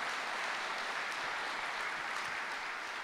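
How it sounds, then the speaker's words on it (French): Audience applause for guests at a conference session on the nitrogen fertiliser market, a steady, even wash of clapping from a hall, moderately distant and unbroken. "Je crois qu'on peut applaudir Cornelia Horsch et Robert Dorsmagen"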